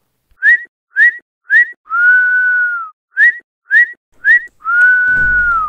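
A person whistles a secret signal: three short rising chirps then a long sustained note, repeated twice in a clear, close, loud pattern with silence between.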